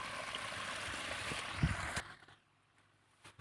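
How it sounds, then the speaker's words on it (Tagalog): Water flows through a rice field, a faint, continuous rushing trickle that stops abruptly about two-thirds of the way through. Near-silence follows, broken by a few small knocks. "Ito, daanan siya ng tubig."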